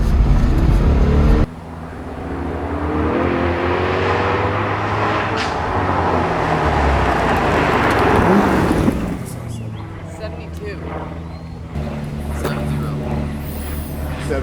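A Corvette accelerating hard on a speed run, a loud, broad engine roar building for several seconds then dropping away, with a quieter engine note returning near the end.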